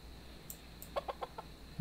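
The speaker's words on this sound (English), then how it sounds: "let me get some food for my chickens" Chickens in the farming video game Dinkum give four quick, soft clucks in a row, faint against a quiet background hum.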